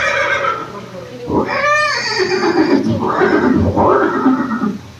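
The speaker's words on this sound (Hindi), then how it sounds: "ये दृश्य महाराणा प्रताप और सुविख्यात स्वामी भक्त घोड़े चेतक के अंतिम मिलन का है।" Chetak, the legendary horse of Maharana Pratap, gives a loud, close whinny, with a second fainter neigh and sounds of the horse stirring afterward.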